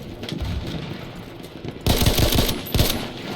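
Rapid bursts of gunfire from the World War I shooter Battlefield 1 on PC. Muffled ambient game noise comes first, then loud, sharp volleys crack out over the last half.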